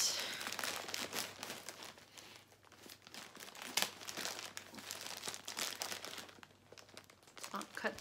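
Plastic packaging from a clothing haul of pants and shorts crinkles and tears as it is opened up close, in uneven bursts of rustling, while a person talks quietly.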